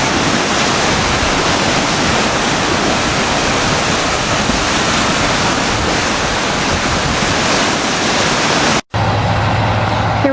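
The Mamuee River in flood, rushing water roaring as a loud, continuous broadband wash close by, steady throughout and cut briefly near the end.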